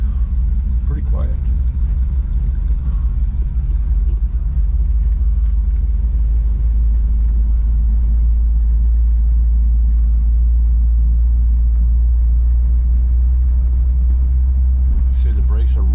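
A 1952 GMC truck engine rumbles low and steady while driving, with constant road noise throughout and some faint talking in the background.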